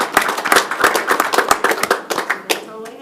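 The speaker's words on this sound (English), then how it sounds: "So please give them a round of applause." Audience applause fills a school board meeting, a burst of many overlapping claps from a room of people that holds steady for a few seconds, then thins out and stops.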